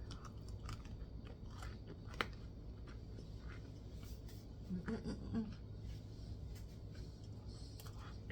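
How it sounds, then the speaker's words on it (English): Crunchy Nutter Butter biscotti being bitten and chewed up close, soft irregular crunches and munching over a quiet low background hum. "Don't begrudge me a little taste. You hear that crunch?"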